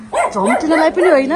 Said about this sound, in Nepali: आज म हजुरलाई एउटा चमत्कार एउटा अचम्म खालको भिडियो देखाउँदैछु यहाँ कुकुर भुकिरहेको